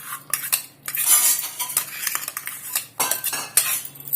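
A metal spoon stirring coconut and cashew paste into methi chicken gravy in a pot: irregular scraping and clinking of utensil against the pan, close and fairly loud, with brief sharper knocks.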